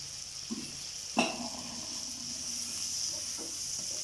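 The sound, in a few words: stirring tomatoes frying in a pan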